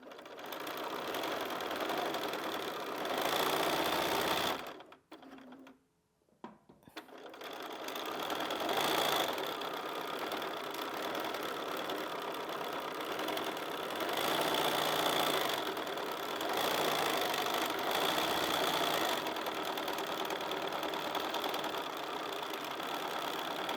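A sewing machine running steadily during free motion quilting with a stitch regulator, a continuous close mechanical whirr that stops briefly for a moment before resuming at an even pace.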